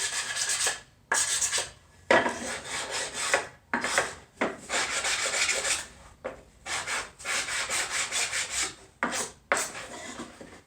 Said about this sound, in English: we're going to take a sanding block, get rid of all these furries